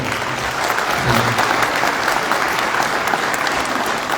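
Crowd applause at an election rally in Gyumri, Armenia, a dense and loud sustained clapping from many people that fills the whole stretch.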